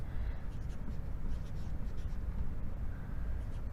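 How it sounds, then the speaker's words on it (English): Continuous faint scratching and rubbing of writing strokes on a classroom board, steady and close, with no talking. "So I'm just going to write those words mark or sign."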